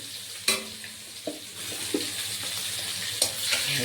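Food spluttering in hot oil in a pan during preparation of a Bengali katla fish curry, a continuous close sizzle broken by sharp crackling pops every second or so, with no talking.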